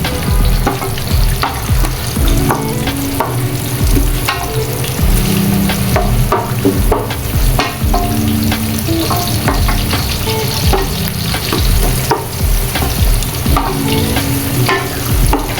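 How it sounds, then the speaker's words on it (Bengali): Onions fry on high heat for birista, crisp fried onion for hilsa pulao, with a loud, dense sizzle and crackle broken by repeated stirring scrapes, close up and with no voices. "বেরেস্তাটা হাই হিটে করতে হবে।"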